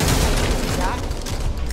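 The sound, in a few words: gunfire at an ogre in Back 4 Blood video game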